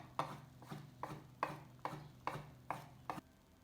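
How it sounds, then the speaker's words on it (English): A knife chops cheeses and cured meats into small cubes on a board in eight even, regular strokes, close and fairly soft, with no talking. "cutting up the cheeses and the meats is the most time-consuming part of the whole dish"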